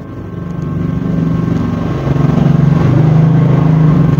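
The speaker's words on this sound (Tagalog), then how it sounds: "At may motor." A motorcycle engine drones steadily outside a two-story house, a low, loud rumble that holds and swells as it passes near, with no talking.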